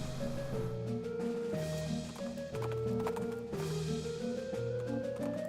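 Horse hooves clip-clopping in the West of Loathing video game, a steady trotting rhythm sounding under a looping western-style music score with sustained tones, no talk.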